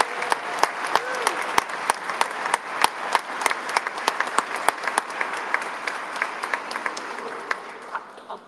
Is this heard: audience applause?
yes